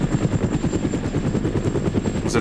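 Helicopter in the video game ArmA: Red Hammer, a steady rotor chop with a dense low pulsing drone throughout, loud and close, with no talk.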